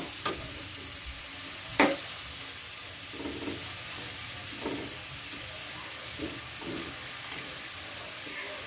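Shrimp sizzle and fry steadily in a pan over high heat, with a few sharp clinks and scrapes of stirring scattered through the continuous crackle.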